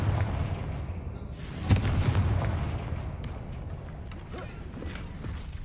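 A Confringo fire spell explodes in Hogwarts Legacy combat, a single booming blast near two seconds over a dense, rumbling battle din that carries on throughout.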